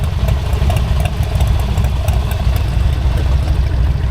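Several Harley motorcycles idle together in Conway, New Hampshire, a loud, steady, close rumble with a continuous low throb and light mechanical clatter, and no voices.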